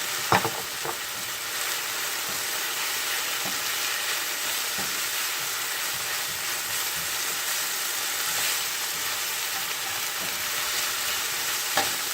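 Carrots for chicken lo mein sizzle and fry in a hot pan, a steady close hiss with occasional stirring scrapes and clinks, no voices.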